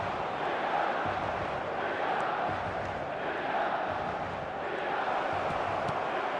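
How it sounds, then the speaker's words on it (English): A stadium crowd in the eFootball 2026 football video game roars steadily, a dense, continuous wash of massed voices with gentle surges and no single voice standing out. "the crowd are reacting to that now"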